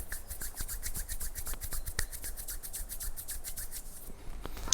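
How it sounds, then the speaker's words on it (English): Hands rub briskly together, fingers sliding between each other, giving a dense run of dry, close swishing strokes for a few seconds with no talk. "So then rubbing my hands like this as well, between the fingers."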